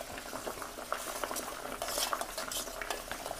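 A spoon stirs a thick mixture in a metal pot, kept moving so it won't stick. Gives steady scraping and scattered clinks against the pot, close and fairly quiet, with no talking.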